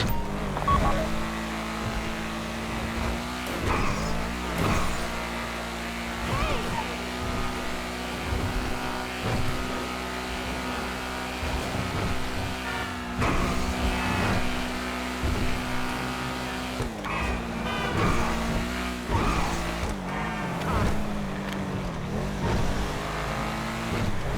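A car in GTA Online drives with a steady engine drone and repeated revs and gear changes, the engine rising and falling throughout.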